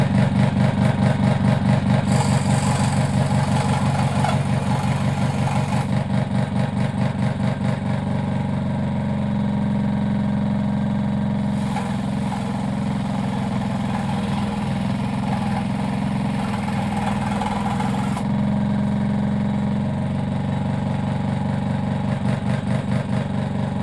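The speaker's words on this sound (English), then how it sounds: "I'll try it with my scroll saw now." A scroll saw runs at full speed, its motor humming steadily with a rapid buzzing chatter from the blade, the tone shifting slightly as it cuts, with no talking.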